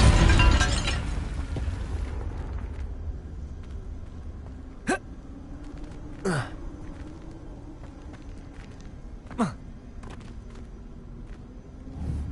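Confringo blasting spells exploding in Hogwarts Legacy: a loud burst opens the clip, then three short sharp impact cracks land about 1.5 to 3 seconds apart over a steady low game ambience.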